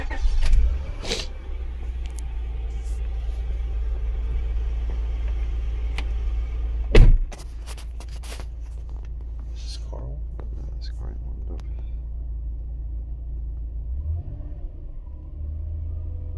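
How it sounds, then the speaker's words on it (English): A 2005 Honda Accord with a 3.5 L engine idling with a steady low rumble and a sharp restart thump partway through. Quiet voices and small clicks sound over it. "Start engine."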